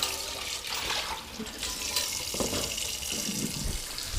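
Water from a kitchen tap pouring steadily into a pot, a continuous close splashing hiss throughout.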